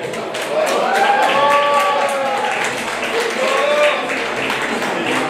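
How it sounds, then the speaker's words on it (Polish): Crowd applause at a boxing and kickboxing gala, a broad wash of clapping with cheering, whoops and an announcer-style voice carrying over it throughout. "Wielkie brawa dla Michała Matysiaka"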